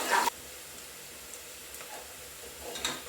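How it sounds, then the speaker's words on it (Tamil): A soft, steady sizzle of onions frying in a pan, quiet and continuous, with a brief louder clatter at the very start. "ஆனியன் சாஃப்ட் ஆகிற வரையும் வதக்கலாம்."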